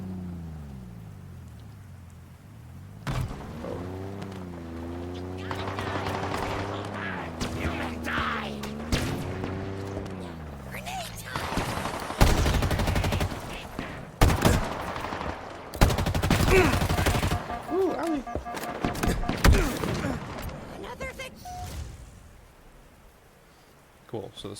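Enemy gunfire in Halo Infinite aimed at the player, bursts of rapid shots and impacts scattered through the middle of the clip amid game noise, with a voice talking over it.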